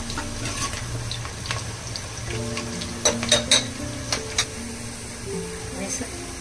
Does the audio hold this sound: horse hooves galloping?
no